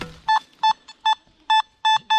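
A Nokta Makro Simplex metal detector gives a strong target signal in a forest valley: seven short, evenly spaced electronic beeps, loud and close, with no talk.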